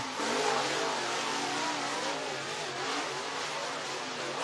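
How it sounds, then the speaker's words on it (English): Race cars circle a dirt track at Duck River Raceway Park in Lewisburg, Tennessee, coming round to take the green flag. Their engines make a continuous distant roar mixed with broadband crowd and track noise. "both these drivers coming around to take the green flag from Will Dykes"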